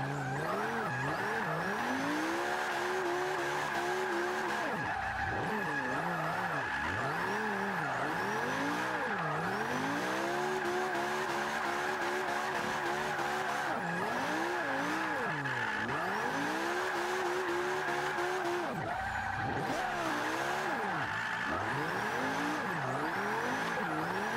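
A 2008 BMW M3 rear-wheel-drive drift build in Forza 5 slides through corners, its engine revving and falling in long sweeps under continuous loud tire squeal, with no talk.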